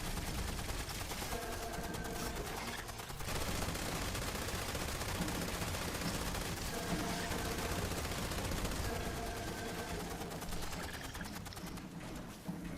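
Gunfire in the Fallout 76 video game: rapid bursts of shots crack repeatedly over a constant dense wash of game sound, with a brief lull in the middle.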